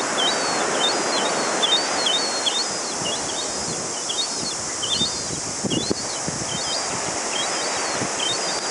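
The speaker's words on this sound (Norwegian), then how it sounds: "Hold op, som fugle, altså." Birds at Cathedral Cove give a rapid series of short, high chirps, repeated steadily over a soft rustling, breezy background.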